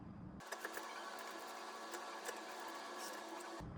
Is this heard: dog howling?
no